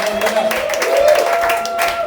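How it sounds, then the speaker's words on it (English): A roast battle audience applauds both competitors, with moderate rippling claps and crowd murmur holding steady over about two seconds. "Big round of applause for both of them"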